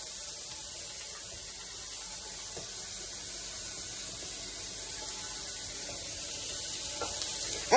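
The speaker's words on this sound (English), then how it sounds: "Sorry for the water in the back running." A kitchen tap runs steadily in the background during homemade burger cooking, a faint, even hiss of flowing water that continues throughout with no talking.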